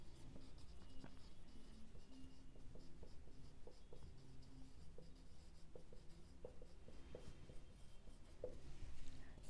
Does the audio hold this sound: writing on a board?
yes